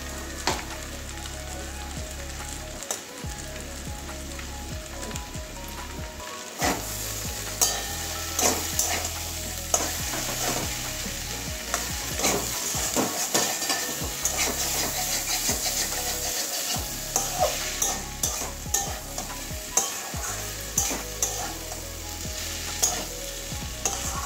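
Potatoes and kundru (ivy gourd) sprinkled with garam masala sizzle in a frying pan as they are stirred, with repeated close scraping strokes against the pan over a constant frying hiss.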